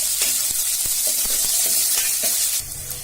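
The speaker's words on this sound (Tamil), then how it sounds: "இது கூட ஒரு பெரிய வெங்காயம் நறுக்கி எடுத்திருக்காங்க, அது சேர்த்துக்கலாம். சேர்த்துட்டு நல்லா வதக்கிடலாம்." Chopped large onion sautés in a pan for a Tamil-style yam tamarind curry, a dense steady sizzle with repeated light scraping stirs and clicks of a spoon, close and loud, easing slightly at the end, with no talk.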